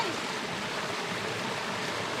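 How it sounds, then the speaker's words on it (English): Small mountain waterfall on a hiking trail, a steady, loud broadband rush of falling water that stays close and continuous with no break and no voices. "Kind of a cool little waterfall, ain't it"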